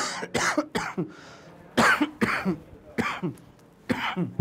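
A burst of harsh, repeated coughing, several loud coughs in quick succession with brief gasping pauses between them, close to the microphone.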